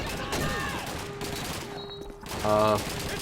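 Rifle shots from a Tokarev rifle in Call of Duty 2's Soviet campaign crack out in a few bursts amid battle noise, with a voice speaking in between.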